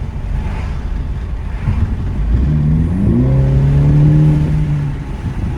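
Toyota Supra 2.0 fitted with an aFe Takeda exhaust, driving in normal exhaust mode: a low, steady engine drone that rises as the car accelerates, heard from inside the car with road noise underneath.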